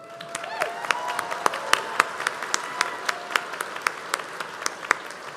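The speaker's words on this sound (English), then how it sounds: "You can applaud now." An audience at a medical school convocation applauds, a burst of many hands clapping that builds into a steady crackle of sharp claps, loud and fairly close, and carries on for several seconds.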